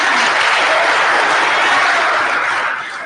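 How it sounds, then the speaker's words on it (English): Sustained, dense applause from an audience at a citizens' assembly in Kenya, loud and steady throughout before tapering slightly at the end, with no talking over it. "Please, let's give them a round of applause."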